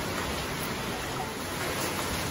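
Heavy rain pours down in a dense, constant roar of falling water, loud and close, with no voices over it.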